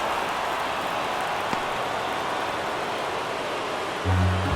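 A dense, unbroken stadium crowd roar fills a late-inning moment of a Houston at LA Dodgers game in MLB The Show 23, with a brief tonal swell rising at the very end.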